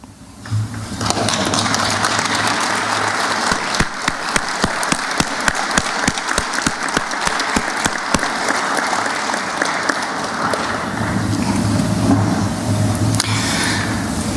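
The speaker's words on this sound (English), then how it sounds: "Class of 2016, I would like you to rise and acknowledge your parents and teachers for their efforts with a round of applause" A graduation ceremony audience applauding for parents and teachers, a long, loud, sustained round of clapping from a large crowd with dense overlapping claps and some individual sharp claps standing out.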